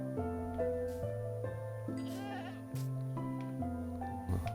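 A goat in Minecraft gives a series of bleats in quick succession, close and clear, as tones shift over a faint background.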